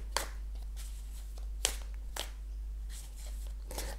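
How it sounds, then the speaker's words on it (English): Tarot cards are shuffled by hand in a slightly clumsy way, with scattered soft riffles and flicks of card stock over a low steady hum, close and fairly quiet. "Let's see what comes as we shuffle."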